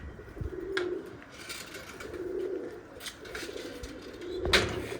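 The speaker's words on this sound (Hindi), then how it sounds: "कोशिश यही होती है कि अच्छे से अच्छे कबूतर आपको दिखाए जाएँ" Pigeons of the slate bichhu breed coo in low, soft repeated phrases, about four bursts spaced a second or so apart, close by, with faint chirps and a brief knock in the background.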